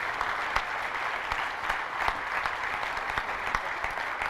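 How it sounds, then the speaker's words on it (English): Sustained applause from a conference audience at the closing of ShmooCon 2015, a dense, steady wash of many hands clapping with no talk over it. "one big round of applause for everybody who put in their own blood"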